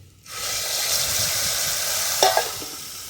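Spice masala with dried red chilies, curry leaves and asafoetida frying in oil for a green pigeon pea dal, giving a steady close sizzle that starts abruptly, with a couple of brief stirring clinks near the end.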